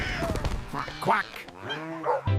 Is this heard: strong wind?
no